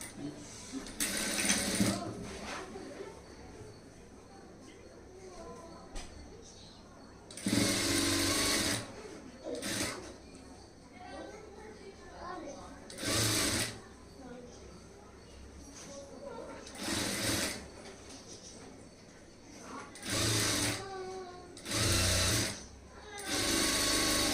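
Short bursts of a sewing machine join blouse panels for a high neck blouse, several separate runs of rapid stitching between stretches of someone talking.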